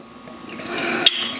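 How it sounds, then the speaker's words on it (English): Ommegang Three Philosophers beer pours into a glass, a close liquid gurgle that swells over about a second and ends with a brief bright splash, with no talking. "And we have a nice light brown pour on this one."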